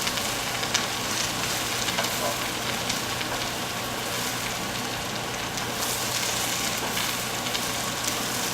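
Spicy vegetable stir fry sizzling steadily in a hot pan while being stirred, a constant close frying hiss with light scraping throughout and no speech.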